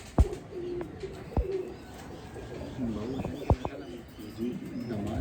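Rare fancy pigeons at a pigeon-keeping loft in Dharampura, Lahore, coo softly and repeatedly over a busy background, with a few sharp knocks punctuating the low, rolling calls.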